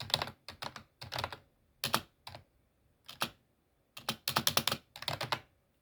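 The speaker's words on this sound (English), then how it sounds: "Mechanical keyboard, of course." Clicky mechanical keyboard typing in quick bursts and pauses, close and crisp, with no voices.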